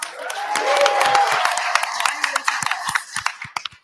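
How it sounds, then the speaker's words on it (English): A round of applause breaks out at a village trustees' board meeting, a steady patter of clapping from a modest room that swells, then thins into scattered claps, with voices talking over it. "Want to give him a round of applause."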